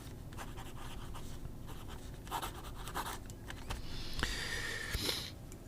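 A pen with a stiff nib and no bounce scratches across paper in short, close strokes, some brisk and louder than others, against a soft steady hiss.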